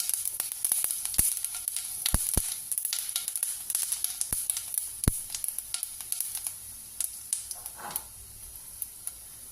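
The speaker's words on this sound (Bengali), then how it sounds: "এবারে এখানে বড়ি ফোড়ন দিয়ে দিই" Bori (lentil dumplings) dropped into hot oil in a nonstick kadai give a soft, steady close sizzle dotted with sharp, irregular pops and crackles, with a brief scrape near the end.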